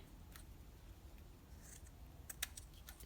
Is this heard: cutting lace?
yes